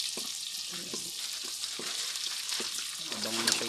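Garlic frying in a pan for pansit bihon, with a steady sizzle and a few soft scrapes of stirring, close and fairly quiet throughout.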